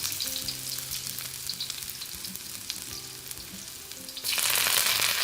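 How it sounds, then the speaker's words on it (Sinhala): Crushed ginger and garlic crackle in hot oil for string hopper kottu, a dense continuous sizzle with light stirring that grows louder and brighter near the end. "දැන් තෙල් ටික රත් වෙලා තියෙන හොඳට මේකට තලාගත්තු ඉඟුරු සුදු ලුණු දැන් එකතු කරනවා."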